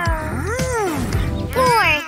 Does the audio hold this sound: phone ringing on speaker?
no